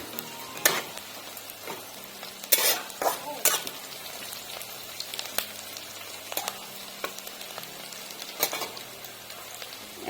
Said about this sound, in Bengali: এখন কটা গোটা জিরা দিয়ে দিলাম